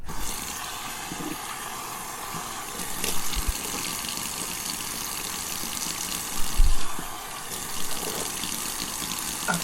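Tap water runs steadily into a sink while the face is wetted before shaving, a continuous close hiss with a few brief splashes and bumps over it.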